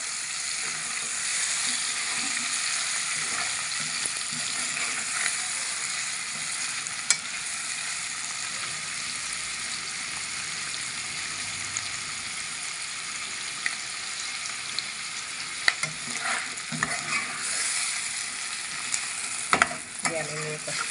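Chicken adobo frying in a pan, a continuous soft sizzle with scattered scrapes and clinks from stirring, fairly quiet and close, with no talk.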